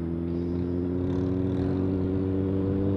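Loud, steady car engine drone close by, a continuous low rumble with no talking over it.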